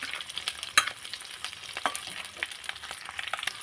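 Eggs fry lightly in a pan with a continuous crackling sizzle, sharp spattering pops scattered through it, close and fairly quiet.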